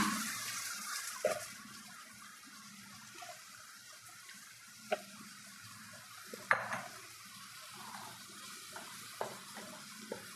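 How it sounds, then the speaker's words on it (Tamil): Cut drumsticks (moringa pods) stir-fry in a pan for a village-style gravy, giving a faint steady sizzle with occasional sharp clinks of a spoon against the pan. "இப்படியே கொஞ்சம் நேரம் நல்லா வதக்கி விடலாம்"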